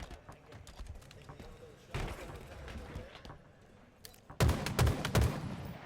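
Rapid gunfire in a Halo esports match at the HCS Major in Charlotte, with dense bursts of shots and impacts, the heaviest volley near the end, under a caster's excited commentary.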